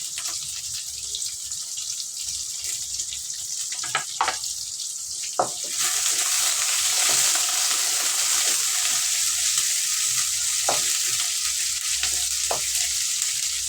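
Onions sautéing in a pan for drumstick sambar, a steady sizzle that intensifies partway through, with occasional sharp clinks of a spoon stirring against the pan.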